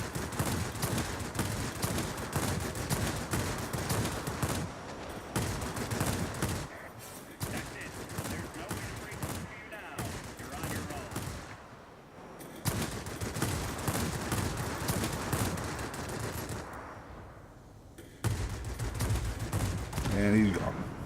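Forward-mounted guns of a Westland P.1056 fighter firing in an aerial combat video game, dense sustained bursts broken by short pauses, loud and close, with a voice speaking over parts of the action.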